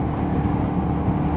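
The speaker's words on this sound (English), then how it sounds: "this is such a wonderfully over-engineered little engine that has so much character" A small, characterful Royal Enfield 350 motorcycle engine runs steadily, giving a continuous low, even rumble that stays loud and close with no breaks.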